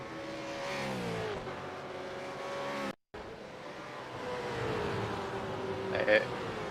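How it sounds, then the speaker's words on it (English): V8 race cars in a sim racing video game drone and rev through a chicane, a steady engine hum with shifting pitch, heard under continuous commentary talk. "Tony Gaffer in the Penrite car coming up to the bus stop chicane on lap 8"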